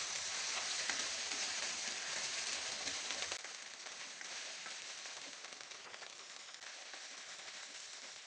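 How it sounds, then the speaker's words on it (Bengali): Dried boal fish fry in a pan with a faint, continuous crackling sizzle. The low background drops away partway through while the sizzle carries on evenly. "2 মিনিট ভেজে নিব।"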